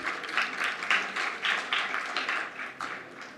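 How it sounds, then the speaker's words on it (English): Scattered, fairly quiet clapping pulses in rhythmic bursts as a quiz winner is called to the stage at an Indian embassy Constitution Day celebration. "Give a huge round of applause."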